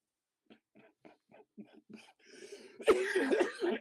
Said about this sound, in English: When I laugh, I cough.